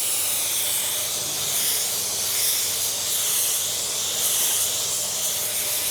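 A paint spray gun lays down a drop coat on an automotive metallic finish at lowered air pressure, giving a steady, close, broadband hiss that swells slightly as the passes change direction, with no talking.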